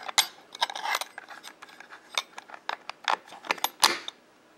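A spool of Double 8 movie film is handled up close, giving a quick irregular run of small clicks, taps and light clinks from plastic and metal parts.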